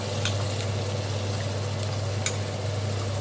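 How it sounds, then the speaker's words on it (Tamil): Green chili and mint paste sizzles in a pan while cooking for chicken biryani: a steady, moderate frying hiss over a low hum, with two brief sharp clicks. "இது ஒருக்கா கிண்டி விட்டுட்டு அனலையும் ஏற்றிட்டு இந்த பேஸ்ட் இப்போ சேர்த்துக்கலாம்."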